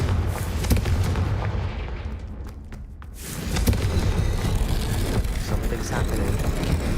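A Confringo fire spell in Hogwarts Legacy bursts with a loud explosive boom amid dense game noise and music, a brief dip in level, then the roar swelling back up and holding steady.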